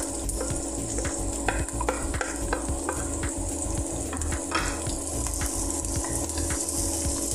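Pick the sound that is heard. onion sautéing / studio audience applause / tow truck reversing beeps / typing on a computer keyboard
onion sautéing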